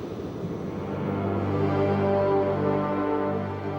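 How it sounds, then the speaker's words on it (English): An aircraft on its landing approach gives a steady, loud engine drone with a humming tonal whine that swells slightly midway and then holds, with no voices. "we are now going to be involved with the landing of the aircraft"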